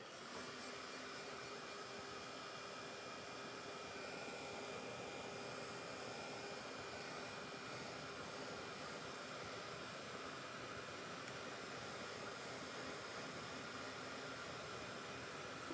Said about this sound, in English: I'm going to hit that with the heat tool and just make sure it's completely dry.